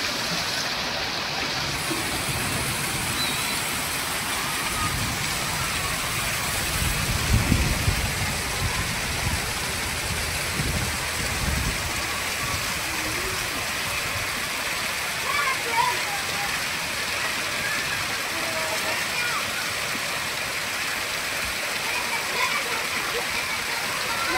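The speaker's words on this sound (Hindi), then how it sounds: "हमारी तरफ बहुत ज़ोर से बारिश हो रही है और आंधी तूफान के साथ साथ बारिश हो रही है" Heavy rain pours continuously with a broad roaring hiss, gusts of wind swelling now and then, loud and close throughout.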